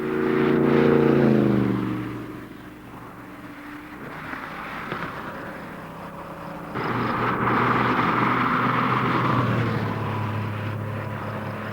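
A fast race car at Summit Point Raceway roars past on the track, its engine note sweeping down in pitch as it goes by, then a second loud surge of engine noise builds and holds near the end.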